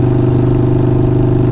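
A Harley-Davidson Sportster 48 fitted with Kinetic 540 Laterals exhaust holds a steady, loud low drone, its deep engine tone droning on evenly without any break.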